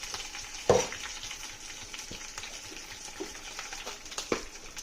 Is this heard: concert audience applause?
no